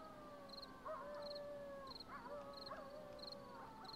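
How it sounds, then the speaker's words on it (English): Dogs howl in the survival video game 7 Days to Die: a few long, wavering tonal howls that rise and fall, with chirping in the background. They sound moderately distant and play over a steady ambient game soundtrack. "Alright, I hear dogs."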